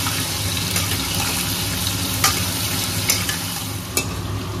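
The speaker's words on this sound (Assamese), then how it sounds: "কঁঠালখিনিও একদম মজাকৈ ফ্ৰাই কৰি লওঁ" Jackfruit and potatoes fry in a pan with a dense, continuous sizzle while a spoon stirs them, adding a few sharper scraping clicks on top of the close, steady hiss.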